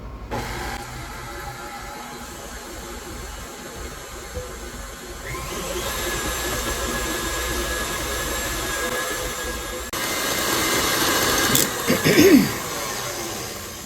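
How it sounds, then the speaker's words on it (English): An electric mixer creams butter and sugar for molasses cookies, giving a steady whirring motor drone that grows louder partway through, with brief clatters near the end. "is cream my butter and sugar"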